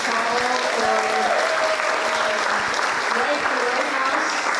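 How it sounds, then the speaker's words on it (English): Steady audience applause filling the room at a Superpod 8 talk on the Lower Snake River dams, dense and continuous throughout with a faint murmur of voices beneath. "can we just get a round of applause here for everybody"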